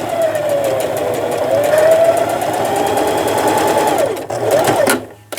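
A sewing machine stitches fabric for an upcycled summer dress, running in a steady, close whir before briefly stopping and starting again near the end.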